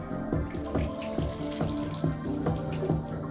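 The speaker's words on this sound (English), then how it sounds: "let's go ahead and hose this thing down" A hose sprays water onto a waterproof Archeer Bluetooth speaker in a bathtub, making a continuous splashing hiss. The speaker keeps playing music through the spray, and its rhythmic tones come through clearly.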